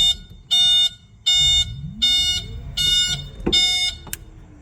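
An electric vehicle's reverse gear warning beeper sounds loud and close, giving a regular series of about five evenly spaced electronic beeps with some faint mechanical noise between them.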